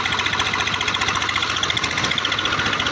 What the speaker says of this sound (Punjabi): ਆਹ ਦੇਖੋ ਆਹ ਪੂਰੀ ਰੇਸ ਕਰੀ ਜਾਂਦੇ ਅਤੇ ਟਰੈਕਟਰ ਰੇਸ ਨਹੀਂ ਫੜਦਾ ਜਮ੍ਹਾਂ ਹੀ